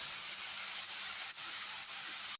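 Steady, soft hiss of steam escaping a lidded pot of banana stem simmering over lowered heat, continuous with a few faint dips.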